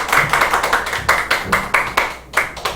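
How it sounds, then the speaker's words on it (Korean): Scattered audience clapping welcomes a speaker at a church gathering, a sparse, uneven run of distinct close claps with a brief dip near the end, no talking. "박수로 맞이해 주세요"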